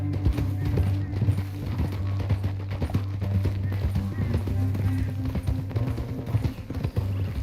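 A horse's hooves pound in a quick, steady gallop close by in the video game Red Dead Redemption 2, with a low engine-like rumble underneath and faint voices in the mix.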